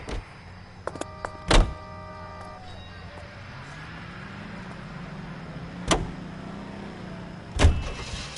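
Car in L.A. Noire with a low engine hum under the cabin, door thunks and short clicks near the start, and further sharp knocks later.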